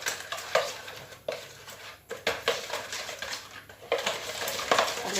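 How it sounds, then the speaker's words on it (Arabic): Seasoned potatoes tossed with oil in a metal pan, a spoon scraping and clinking against the sides in uneven strokes, with wet shuffling of the slices between knocks, close and fairly soft, with no talking. "قلبيها بقى كويس كده ببعضها."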